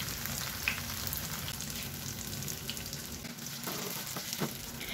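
Tofu frying in hot oil until golden brown, a steady, close sizzle with crackling spatter and occasional stirring, heard alone without talk.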